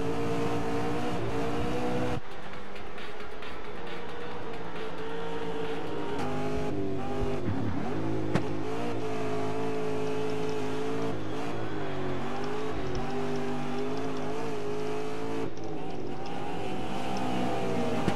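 Touring race cars in a video game racing simulator drone continuously and loudly, with engine pitch rising and falling through shifts and acceleration over the whole stretch.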